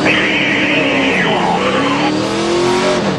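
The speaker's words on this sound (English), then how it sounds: "Yeah, you rev the engine a few times." Loud, close NASCAR race car engines roar and rev during a race at the Glen, with rising and falling pitch as cars pass through in a continuous blur of engine noise.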